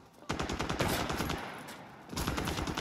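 Automatic weapons fire in The Division 2 on PC, dense rapid bursts of nearby gunfire that rattle continuously, pause briefly, then resume loudly.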